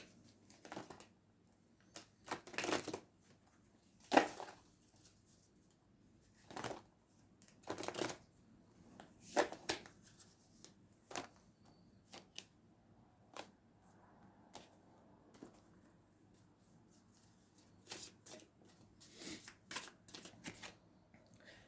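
Oracle cards being shuffled and drawn, giving a series of soft, quick riffling and slapping bursts spread irregularly through a quiet room, with no talk.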